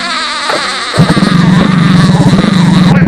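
A motorcycle engine sputters and then revs up loudly and close, its throbbing buzz pulsing steadily for a few seconds.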